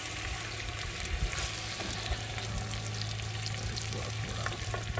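Garlic and chicken for chicken karahi fry in oil with a dense, steady sizzle, close and loud, with faint stirring scrapes and no talk.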